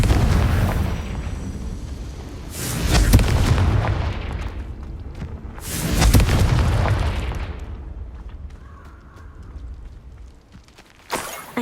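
Confringo fire spell blasts in Hogwarts Legacy: two deep, rumbling explosions a few seconds apart, each swelling and fading, followed by a sharp pop at the end.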